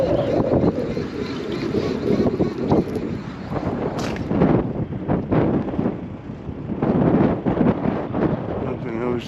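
Strong wind blows across a fishing pier at Town Quay in Southampton, producing a steady, rumbling buffeting that swells and eases in gusts throughout.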